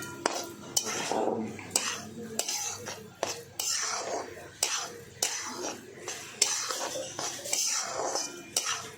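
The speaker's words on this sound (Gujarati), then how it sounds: "આ રીતે ઘી વધારે નાખીને તેને શેકી લઈશું એકદમ ધીમા ગેસ ઉપર આપણે શેકવાનું છે" A mohanthal mixture is roasted in plenty of ghee in a pan over a very low flame, the spoon clinking and scraping against the metal again and again while a voice speaks quietly throughout.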